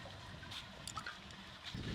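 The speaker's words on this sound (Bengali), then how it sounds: "চালগুলো ধুয়ে নিই।" Rice grains being rinsed in water while cooking, soft splashing and trickling with a few brief sloshes, close but faint, and a fuller pour of water near the end.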